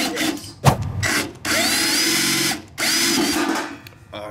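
A power drill with undersized bits whirs in three separate bursts, high-pitched and grinding as it bites into a die-cast Hot Wheels toy car, with short pauses between runs.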